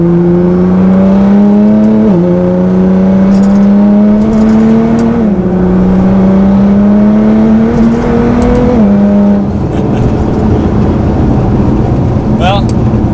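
A Nissan GT-R's exhaust booms loud and close from inside the car while driving, its drone climbing steadily in pitch and then stepping down at each gear change, with a brief high whine near the end.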